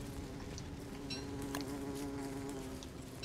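During the Bee Queen fight in Don't Starve Together, bees hum in a continuous close buzz with small shifts in pitch and a few sharp clicks over it, with no talking.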